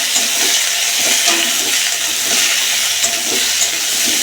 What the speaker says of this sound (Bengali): এখানে আলু পেঁয়াজ টমেটাম দিয়ে দিয়েছি আর এখানে একটু রসুন বাটা দিয়ে ভেজে নেবো ভালো করে